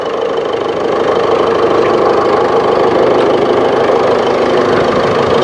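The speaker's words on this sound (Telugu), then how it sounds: "ఇంజిన్ కూడా చాలా సైలెంట్ ఉందండి, చాలా స్మూత్ ఉంది" A 2017 Ford EcoSport Titanium with its engine idling, a steady, even hum that holds level throughout with no revving, recorded up close and loud with no talking.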